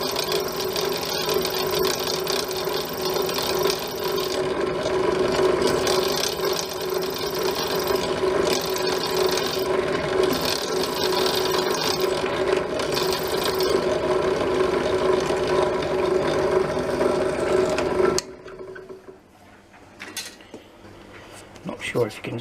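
A drill whines steadily as it bores through a metal anti-tamper cap about 3mm thick on a Falcon Prairie B air rifle, a continuous grinding buzz with rattling, then it stops abruptly, leaving near silence.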